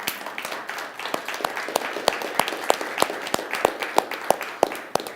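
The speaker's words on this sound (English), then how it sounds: "So give yourselves a round of applause for being here today." Applause from a seminar audience at a body language show, a steady wash of many hands with sharper individual claps standing out at a regular pace, moderately loud and continuous, with no talk over it.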